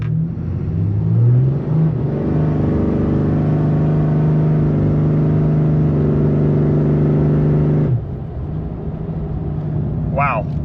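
A Cummins diesel engine revs hard on a dyno, holding a steady, loud, high drone for several seconds before dropping off abruptly, with voices heard over the engine.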